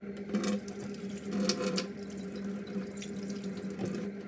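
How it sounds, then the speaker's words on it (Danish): Tap water runs into a sink as hands are washed after handling eggs while making pancakes, a steady close splash with brief louder bursts and no voices. "Husk lige at vaske hænderne efter I har brugt æggene"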